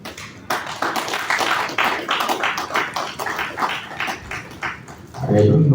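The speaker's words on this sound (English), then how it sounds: "I don't know why the clapping is so minute" A sparse audience at a surveyors' training event in Lagos claps in quick, irregular taps that build and fade, with a voice speaking at the end.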